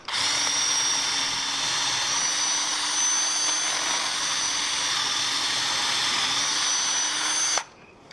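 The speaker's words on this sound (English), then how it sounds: "The bit that I'm using here is a 3/8 inch paddle bit for a 3/8 inch hole." A power drill running a 3/8 inch paddle bit through wood for an anvil stand, a loud sustained high whine that holds steady for over seven seconds before cutting off abruptly.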